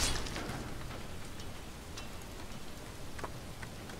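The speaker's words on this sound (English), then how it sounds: "I bet you it's because it thinks it's raining" Steady rain in the video game Relics of Hyrule, a soft continuous patter with scattered droplet ticks and brief clicks, moderately loud and unbroken throughout, with no talking.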